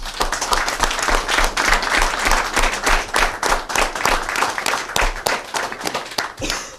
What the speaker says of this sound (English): join me in giving each of these folks a round of applause